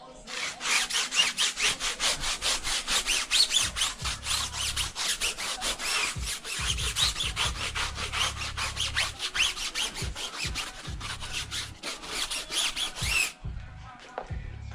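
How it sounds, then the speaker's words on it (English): A brush scrubs a car tire during exterior detailing, making fast, rhythmic rasping strokes that continue steadily at close range for over ten seconds before stopping abruptly. "I also scrub the wheel wells with the same brush."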